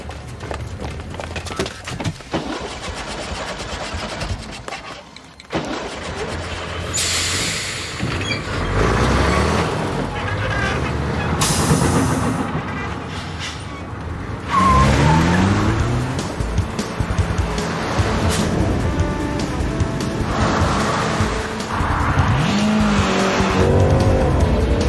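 A car starts up and speeds off in a chase, engine revving hard and tires squealing and skidding repeatedly, loud and close, with bursts of acceleration and screeching over several seconds.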